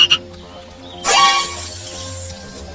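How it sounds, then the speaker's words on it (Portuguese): A frog croaks nearby, a couple of short calls followed by a louder, rasping burst that trails off into a steady drone. "Mas coachar não serve apenas para atrair naturalistas amadores e crianças pequenas."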